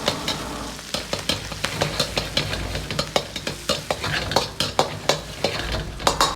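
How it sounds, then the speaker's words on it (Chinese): Ginger and garlic stir-fried in a wok for homestyle Sichuan mapo tofu, with quick scraping stir strokes over a steady close sizzle in an irregular, busy rhythm. "接着下入姜蒜米煸炒出香味。"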